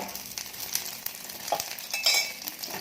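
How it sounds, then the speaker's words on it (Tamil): Oil sizzling around a ladle-style karandi omelette frying in a pan, a steady close crackle broken by light scrapes and clinks of a utensil. "கொஞ்சம் மேலே சுற்றி எண்ணெய் விட்டுக்கோங்க"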